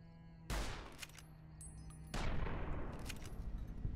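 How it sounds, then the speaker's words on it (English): Two loud revolver shots from .357 Magnum rounds in Fallout New Vegas, each a sharp crack followed by a long, ringing decay, the second about a second and a half after the first. "I'm firing 357 Magnum"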